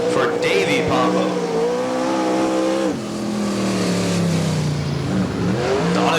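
USAC Western States sprint cars race on the Bakersfield, California track, their engines roaring loud and close, pitch rising and falling as they accelerate and slow across the whole stretch.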